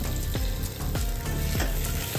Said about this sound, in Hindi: और अब डाल देंगे आलू,